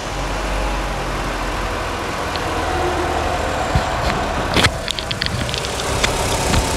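A Fiat Toro with the e-torque Evo engine runs with a low, steady mechanical hum, and a few sharp clicks and knocks stand out near the end.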